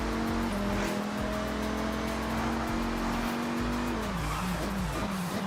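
A tuned A-class saloon in Forza Horizon 6 roars along a wet road, its engine droning steadily, then drops pitch as it brakes late and its tyres squeal and skid, loud and alone without talk.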